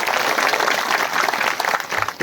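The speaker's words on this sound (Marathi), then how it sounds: "एकदा जोरदार टाळ्या झाल्या पाहिजे" Audience applause fills a kirtan gathering at a large Akhand Harinam Saptah in its 49th year, a dense, steady wash of many hands clapping close by that holds throughout and swells slightly at the end.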